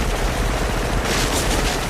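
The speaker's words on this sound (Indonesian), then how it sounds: "Mac menembak secara membabi buta dan disusul oleh tembakan dari tim Dutch lainnya" Dense, continuous gunfire in a film roars throughout, a sustained loud burst of rapid shots that swells slightly toward the end.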